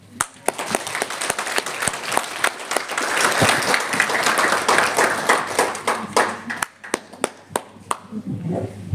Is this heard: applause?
yes